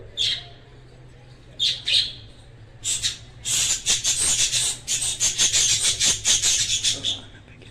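Pet lovebirds squawk loudly and shrilly, starting with a few separate calls and then breaking into a rapid, continuous run of harsh chattering squawks, close by and dominating the room.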